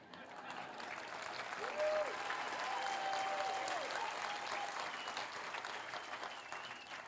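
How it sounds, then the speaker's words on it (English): A conference crowd at a food independence summit clapping, a moderately quiet, diffuse patter of hands spread across the room, steady through most of the stretch before thinning out toward the end, with a brief tonal sound over it. "I'm not impressed with the clapping."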